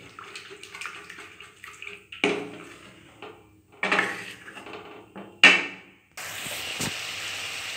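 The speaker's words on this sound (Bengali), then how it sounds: "এর মধ্যে দিয়ে দেবো সামান্য পরিমাণে জল।" Water poured into a pan of yogurt spice masala for doi begun, heard as splashing and clanking against the pan in several short bursts, followed by a steady rushing sizzle at the end.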